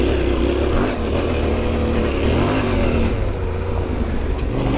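A Yamaha Tenere 700 adventure motorcycle on stock tyres climbs an off-road hill, its engine droning steadily and loud close by with slight rises in pitch and a constant rough wind-like rumble throughout.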